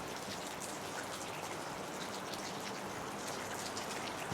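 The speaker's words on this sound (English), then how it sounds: "I don't think it's raining, but I think it's just like the trees are just, there's just dew coming down off of this here, this rainforest." Steady dripping of dew falling from tall rainforest trees in a valley of giant trees, a continuous soft patter of drops on leaves and ground, close and even throughout with no voices.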